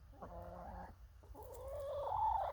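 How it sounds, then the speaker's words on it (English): Backyard hens in a garden give two drawn-out, wavering clucks and calls in sequence, close by and moderately quiet, with no talking over them. "The chickens wish they could get to it, that's for sure."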